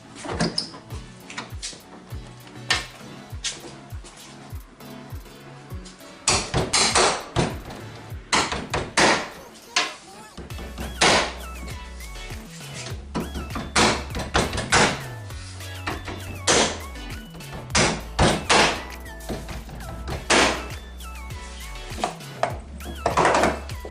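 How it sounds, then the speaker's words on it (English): Plastic rear trim on a 2002-2008 Z11 Nissan Cube is pressed back onto its clips, giving a long series of close, sharp clicks, knocks and thuds in irregular clusters, with no talking. "we're just going to click it back into the 6 clips up the top"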